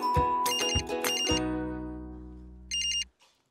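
A phone ringtone for an incoming call plays as a bright electronic ringing melody in short bursts that fade out between them. The sound is clear and close, and nobody speaks over it.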